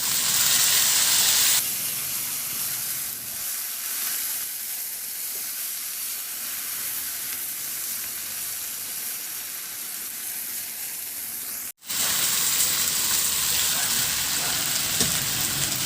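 Dried tuyo fish sizzles and spits in hot oil in a pan alongside pork liempo, a steady broadband frying hiss lasting throughout, with a brief cut near the end before the sizzle resumes, no voices present.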